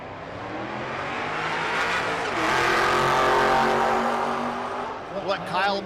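6th gen Camaro and another drag racing car at a race week event, engines revving and swelling to a loud roar midway, then fading, with an announcer talking over it throughout.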